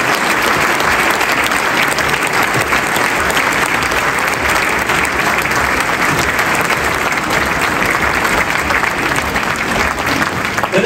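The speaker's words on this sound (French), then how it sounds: "Applaudissez-la." A large conference audience applauds Prime Minister Elisabeth Borne as she comes on stage, a loud, dense, unbroken wash of clapping lasting the whole stretch, close and full.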